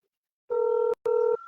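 Two clear telephone dialing tones sound in quick succession, each held for under half a second, followed by a quieter steady tone; close and clean with no talking.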